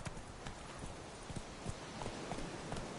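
The horse Roach gallops in The Witcher 3, hooves clip-clopping in a fast, even rhythm, faint and distant over a steady background wash.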